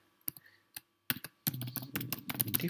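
Brief, fairly faint keystrokes on a computer keyboard while typing into a LibreOffice spreadsheet, a few isolated clicks at first, then a quick burst of rapid typing.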